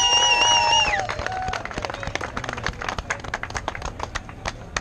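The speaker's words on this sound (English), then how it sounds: "Round of applause for Vlad." Applause from a house-party crowd breaks out as a whistle-like tone fades, dense scattered clapping that thins into sparser, uneven claps, fairly close and loud with some background voices.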